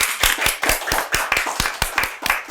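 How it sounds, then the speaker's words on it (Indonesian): A small podcast audience claps in sharp, distinct claps with an uneven rhythm. The sound is close and dry, and the claps stay steady for a couple of seconds. "Ayo tepuk tangan dulu."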